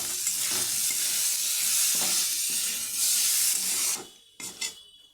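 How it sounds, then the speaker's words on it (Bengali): Dried fish fried in a pan with turmeric, chili and salt hisses in a loud, dense sizzle with stirring for four seconds, then drops away into a few faint clinks. "এই দেখো বন্ধুরা, খুব সুন্দর করে ভেজে নিয়েছি"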